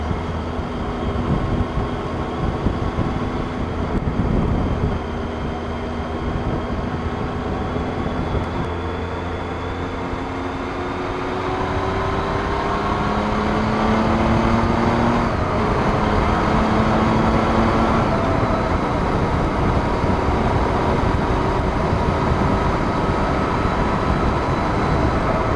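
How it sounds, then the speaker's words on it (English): Steady road and tyre roar from a moving vehicle on a street, with a continuous broadband rumble and faint high-pitched whining tones rising and falling throughout, no voices. "So I wonder if that's tyre noise that I keep hearing."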